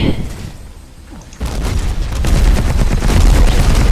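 Firecracker explosives thrown in the video game Battlefield Heroes go off as a dense, continuous crackle of bangs and pops, loud and close after a quieter opening second.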